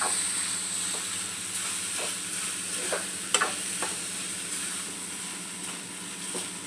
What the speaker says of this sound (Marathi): चांगलं असं एकजीव करूया।